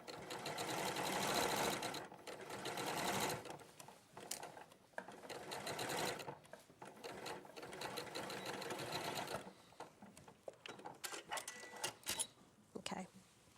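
A sewing machine stitches the side seam of a garment, running in loud sustained bursts with short pauses as the fabric is guided toward a notch, with a voice talking now and then between runs.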